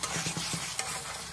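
Spice masala for mutton kosa is stirred and fried in a pan, giving a continuous close sizzle with rhythmic scraping strokes of the spoon, no voices present.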